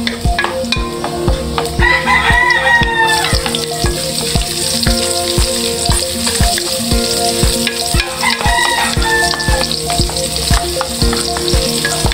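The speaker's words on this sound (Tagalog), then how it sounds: "At mag-umpisa na tayo maggisa." Ingredients for ginamay sauté in a pan with loud, continuous sizzling and frequent stirring clatter, while a rooster crows twice in the background.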